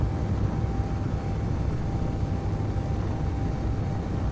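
Spacecraft thrusters in the video game Space Engineers run at full throttle as a steady, loud, low roar with an even, droning hum that holds unchanged throughout.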